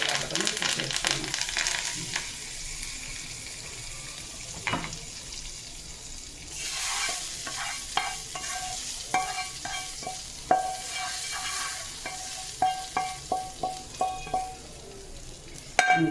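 Curry leaves and oil sizzling in a tempering for pickle, a hissing fry punctuated by scraping stirs and clinks, with a running-water burst midway and several sharp utensil taps toward the end.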